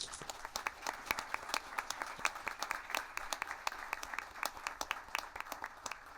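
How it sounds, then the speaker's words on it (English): Modest applause at a council meeting, a small group's distinct individual claps standing out over a soft, steady wash of clapping, fairly quiet and continuous. "So let's give them a round of applause."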